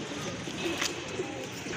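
Imported fancy pigeons kept for flying and racing give a couple of faint, soft coos against steady background noise, low in the mix.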